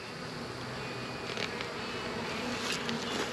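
Honeybees hum continuously inside an open hive under inspection, a close, even buzz with a few brief brighter flurries as individual bees fly near, and no talking.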